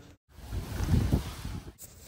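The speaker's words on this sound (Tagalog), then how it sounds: "Sa loob ng cave, na dinig mo talaga yung tunog ng dagat at napaka-solemn." Sea surging inside Chapel Cave on Boracay, a steady low broadband wash and rumble that swells and fades over a couple of seconds, with no voices.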